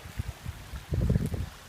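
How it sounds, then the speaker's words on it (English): Rainwater after a rainstorm flowing and trickling over eroding ground, a soft close babbling with small splashy bursts that swell in the second half. "You could see that this moving water"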